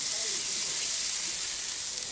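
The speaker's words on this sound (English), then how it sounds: "I'm going to get these straight over the heat just for the time being" Harissa chicken searing directly over the heat on a barbecue grill, giving a loud, steady, close sizzle and hiss throughout.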